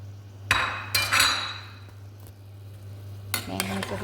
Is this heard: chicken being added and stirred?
yes